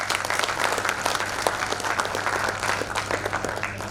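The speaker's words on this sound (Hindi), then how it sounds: "मैं चाहता हूँ पुरजोर तालियों से इस्तकबाल करें।" Audience at a poetry gathering breaks into sustained applause to welcome a poet, a steady wash of many hands clapping throughout, with faint voices underneath.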